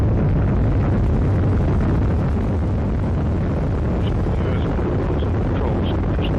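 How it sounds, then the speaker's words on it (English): Atlas V rocket lifting off with a Cygnus cargo craft, a continuous deep broadband roar that fills the whole stretch at steady loudness, with faint higher tones near the end. "liftoff of the Atlas V rocket with Cygnus and the SS John Glenn"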